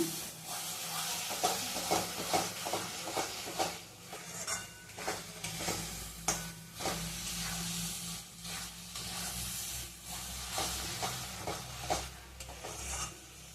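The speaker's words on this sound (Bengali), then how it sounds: "দেখুন আমার কড়াই থেকে ছেড়ে আসছে। এরপর আমার পাকটি পুরো হয়ে গেছে। আর 2 মিনিট আমি নাড়বো।" Mango laddu mixture being stirred in a wok as it thickens and pulls away from the sides, a soft sizzle under rhythmic scraping strokes of the spatula, close and steady throughout.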